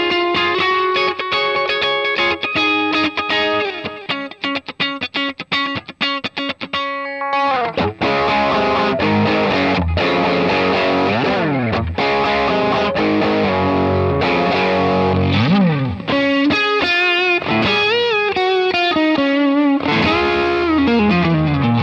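Distorted electric guitar through a Fractal FM3 plays rhythmic chords and single notes, each echoed by a quick, pulsing dotted eighth delay that creates a rolling, layered pattern throughout.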